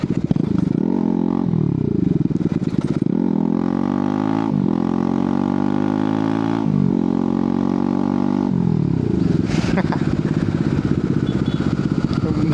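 A Bajaj Pulsar NS200 motorcycle exhaust rumbles loud and close, its engine note rising and falling through repeated revs and gear changes over a steady throaty burble, with no voices.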